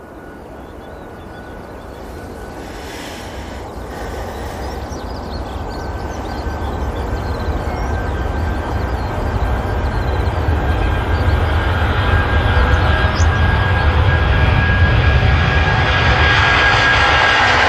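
An airliner departing Manchester Airport, its engine roar swelling steadily louder over the whole stretch into a deep, powerful rumble with a high whine, heard alone without talk.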